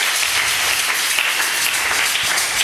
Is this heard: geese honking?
no